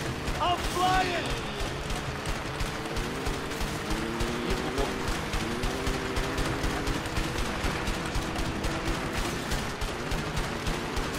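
Rapid bursts of gunfire in the video game A Way Out crackle continuously in the background, mixed with booms and electronic effects, while people talk over the action.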